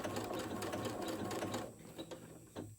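A sewing machine blanket-stitches a raw-edge applique in a rapid, even mechanical whir that runs steadily for over a second and a half, then slows into a few separate stitches and clicks, close and quiet.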